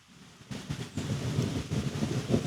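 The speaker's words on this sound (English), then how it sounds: "the rain is coming down" Steady outdoor rain sets in after a brief quiet start, heard from under a tree canopy: a broad hiss with a soft low rumble that continues evenly.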